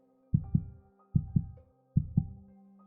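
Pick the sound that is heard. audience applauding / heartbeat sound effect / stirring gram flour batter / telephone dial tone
heartbeat sound effect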